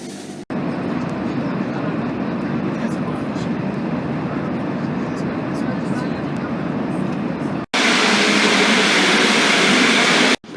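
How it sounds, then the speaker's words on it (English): A French TGV high-speed train at speed, heard from inside the carriage: a loud, steady rumble that runs throughout and shifts abruptly once partway through. "we're now on a TGV"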